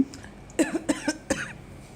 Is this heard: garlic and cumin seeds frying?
no